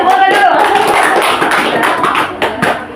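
A classroom group clapping hands together in a burst of dense, close applause that trails off toward the end, with voices mixed in.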